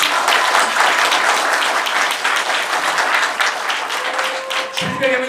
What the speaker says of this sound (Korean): 잠깐 이건 박수 한번 치세요.